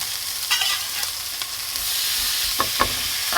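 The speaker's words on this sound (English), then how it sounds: "Just rendering that fat on the salami pepperoni." Ham, bacon, salami and pepperoni frying together in a pan, a steady close sizzle broken by a few scraping stirs, with no voices.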